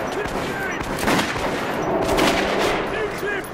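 Gunfire in the video game Metro 2033 Redux, heard as sustained, dense bursts of close, loud shooting with little pause, filling the whole moment.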